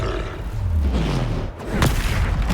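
Depulso force-push spell cast in Hogwarts Legacy, a loud booming magical blast with a low rumbling roar that swells, dips briefly, then surges again with a sharp burst near the end.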